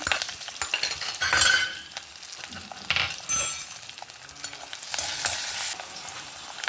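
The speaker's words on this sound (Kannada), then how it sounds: "ಕತ್ತರಿಸಿದ ಹಸಿಮೆಣಸು ಹಾಕೊಂತ ಇದ್ದೆ" A tempering of chopped green chillies fries and sizzles in hot oil while being stirred, with bursts of crackling spitting and occasional scraping from the utensil. There is no talking.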